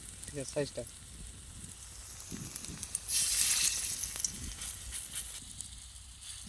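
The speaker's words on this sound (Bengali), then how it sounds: "পালং শাকের বড়াটা ভেজে নেবো লাল লাল করে" Spinach fritters frying in hot oil in a wok, giving a steady soft sizzle that swells louder midway, with brief voices talking early on.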